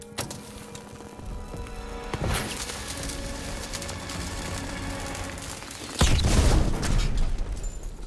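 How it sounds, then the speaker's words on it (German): A loud blast bursts out partway through, followed by rumbling debris and noise over an ongoing Call of Duty: WWII singleplayer game soundscape. "Explosion!"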